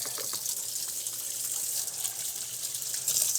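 Tap water runs steadily into a kitchen sink for a quick rinse while cooking bacon, a continuous hissing gush near the microphone with no talking over it.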